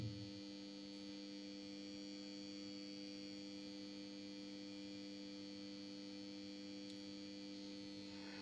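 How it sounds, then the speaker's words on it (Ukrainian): A Grundfos water-heating circulation pump gives a steady low electrical hum with faint tonal whine, running evenly without change from start to finish; no voices. "Насос працює без додаткових шумів."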